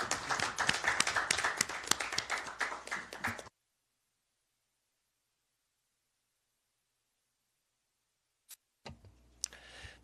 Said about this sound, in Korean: 우리 박수 한번 보내드립시다.